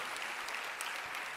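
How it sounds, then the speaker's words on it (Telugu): A church congregation breaks into applause during a sermon, heard as a faint, steady patter of many hands clapping at a distance. "నమ్మిన వారు గట్టిగా చప్పట్లు కొట్టి దేవుని మహిమపరచండి."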